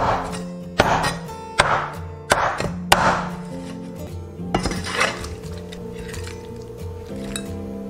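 A cleaver hacks fish bones into small pieces on a cutting board, with about six sharp, loud chops in an irregular rhythm followed by quieter scraping and tapping, close up and without talk.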